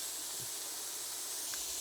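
Diced onions sizzle in a hot pan, a steady broad hiss held throughout at moderate level, with a couple of faint brief bumps.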